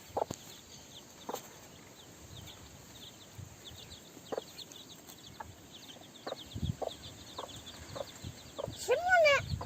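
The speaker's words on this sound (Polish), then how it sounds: "Bardzo pilnuje ta kwoka maluszków." A broody hen gives soft, repeated clucks as she watches over her chicks in a farmyard, while the chicks peep in thin, high chirps around her. Near and moderate in level, with a louder flurry of calls at the end.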